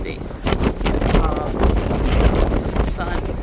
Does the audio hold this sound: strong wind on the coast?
yes